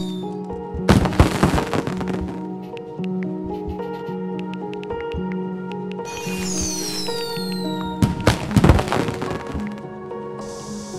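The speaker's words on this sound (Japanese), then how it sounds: "素敵な花火だね。" Synthetic fireworks bursts boom twice amid a steady tonal music loop in the game Sky: Children of the Light, with crackling sparkle and whistling trails between the blasts.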